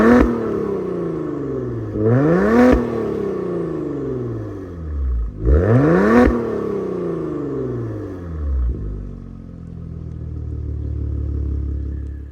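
A 2024 Maserati Ghibli Modena Q4 twin-turbo V6 engine revs up twice with rising roars and drops back, then settles into a steady idle rumble, close and loud.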